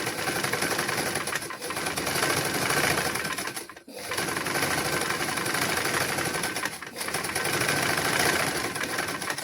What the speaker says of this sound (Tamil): நீங்கள் அவசரப்பட்டு தைக்காமல் மெதுவாக தையுங்கள்.